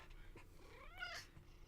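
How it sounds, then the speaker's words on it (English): A pet cat named Silly gives a single rising, drawn-out meow indoors, soft and close, preceded by a few faint chirping sounds. "Silly is a good cat"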